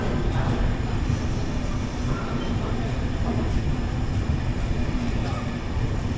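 The Mangala Lakshadweep Express (12618) rumbles at Agra Cantonment station, a loud, continuous low roar of rail noise heard from inside the train with little change. A voice speaks faintly beneath it.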